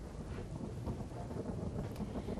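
Heavy monsoon downpour over a village in Dwarka, Gujarat, a dense continuous hiss of rain falling on surfaces with low rumbling thunder in the background, fairly faint and steady with no voices.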